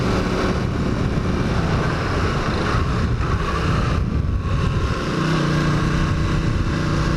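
A 1981 Honda CX500 motorcycle with carburetor issues runs on a commute, its engine a loud, steady, close drone with wind rush and no pauses.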